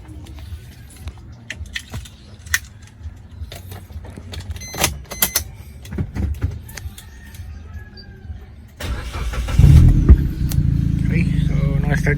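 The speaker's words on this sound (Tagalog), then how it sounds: "Start na yung engine." A Suzuki Swift engine cranks and catches near the end, settling into a steady, loud idle rumble after a stretch of quieter handling noises and a voice speaking.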